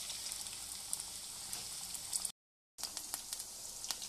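Chicken drumsticks fry over medium heat in a pan, giving a steady close crackling sizzle with scattered pops, broken by a brief silent gap before the sizzling resumes.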